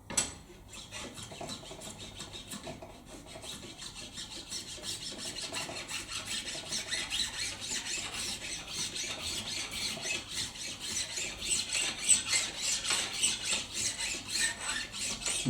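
Frets on a Fender Precision Light bass are scratched during a refret, a close, continuous dry rasping that grows slightly louder and busier over about fifteen seconds.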